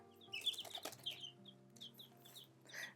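Young chicks of several colours cheep and peep in high, rapid bursts at close range, mixed with soft clucking and brief rustles of wings, on a quiet rural farm.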